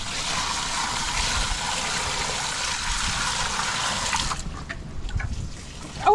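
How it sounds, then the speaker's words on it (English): Water pours over clothes into a Belizean washing machine tub in a loud, steady gushing stream for several seconds, then thins to splashes and trickles. "And dump enough water to go over the clothes."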